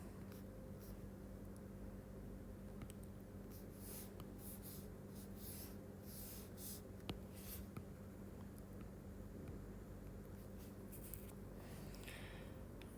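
Pen or marker strokes on paper or a board while a respiratory physiology pressure diagram is drawn by hand, a series of quick faint scratching strokes over steady room hiss, with no talk.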